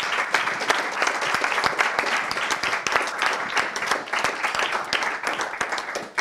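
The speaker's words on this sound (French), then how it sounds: "vous applaudir chaleureusement en vous félicitant à nouveau" Warm, sustained applause from an audience at a doctoral thesis-presentation competition final, dense clapping filling the whole stretch at steady volume with no voices standing out.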